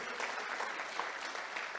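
A church congregation applauds, giving a short, steady burst of dense clapping that sounds somewhat distant and fairly soft throughout.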